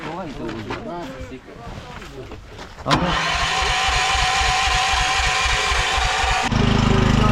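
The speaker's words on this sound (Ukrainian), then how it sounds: "Запустили генератор." A power generator for a village community aid point in Kherson region starts up with a sudden roar and settles into a loud, steady running drone, preceded and accompanied by people talking nearby.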